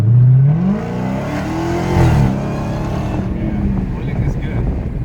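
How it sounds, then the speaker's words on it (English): A supercharged Dodge Challenger Hellcat on drag radials accelerates hard, its engine note climbing in a loud, close rising roar that peaks, then settles into a strong steady drone. "when you really feel that supercharger kick in and take over"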